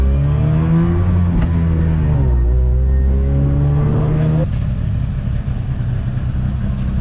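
A blown Toyota Supra 7M engine swapped into a Nissan S13 revs loudly up close, its pitch rising and dipping, then settling into a rougher, steadier run in the final seconds.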